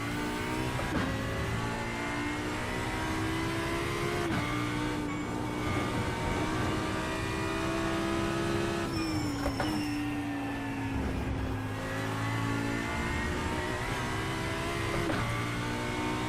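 A GT3 race car engine drones loudly through a racing game lap at Road Atlanta, its pitch climbing and dropping with gear changes and throttle lifts, steady and close with no talking over it.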